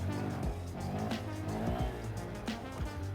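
A Honda Grom motorcycle engine revs hard in first gear during a wheelie, a loud close buzzing drone with several sharp throttle blips and dips as the rider eases off.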